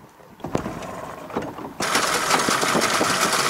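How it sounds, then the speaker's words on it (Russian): A Princess 50 motor yacht's engine at sea off Sochi, a low rumbling drone that swells partway through into a louder, steady roar with rushing water noise, close and continuous with no talk. "Героический катер."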